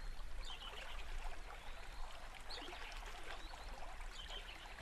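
River Murray water flowing at Lock 6 in fair flow, heard from a pumping platform as a continuous soft rushing and trickling, steady and fairly quiet, with no voices.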